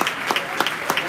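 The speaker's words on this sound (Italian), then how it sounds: "applauso di studenti" A group of students claps at an amateur Olympic boxing match in Sarcedo, a short burst of applause with regular louder accents pulsing through the dense patter, near and unaccompanied by talk.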